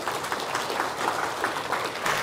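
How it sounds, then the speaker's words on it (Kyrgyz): An audience at a lecture breaks into dense, sustained applause, with many hands clapping steadily throughout at moderate loudness and no voices standing out. "Bir кол чаап коелу ошолор."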